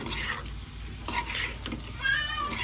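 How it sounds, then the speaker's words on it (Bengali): Pre-fried potatoes being stir-fried in a pan for a potato and egg curry, with steady sizzling and a few scraping stirs of the spatula, close and continuous. "তো এখন ভালো করে কষাবো।"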